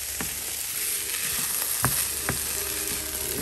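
Diced capsicum, onion and roughly chopped spinach fry in a pan with a steady, close sizzle, broken by a few sharp clinks and scrapes of stirring and no talk.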